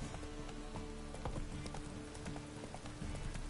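Roach the horse trots in The Witcher 3, a steady clip-clop of hooves running continuously at close range over a rumbling outdoor game ambience.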